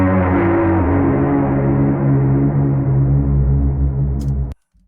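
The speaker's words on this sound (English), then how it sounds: "And after that we have the big signature sound." A big, dense, rumbling whoosh sustains loudly with a rich low layered tone, then cuts off abruptly near the end, followed by a brief click.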